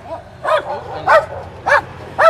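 Guard dogs bark at strange dogs nearby, four loud barks spaced about half a second apart with softer whimpering yips between them.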